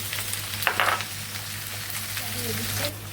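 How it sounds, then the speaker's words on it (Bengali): Pointed gourd and potatoes fry together in hot oil with ginger, garlic and onion paste, giving a steady close sizzle with a few brief scraping stirs near the start. "পটল আর আলু একসঙ্গে করে ভেজে নিচ্ছি"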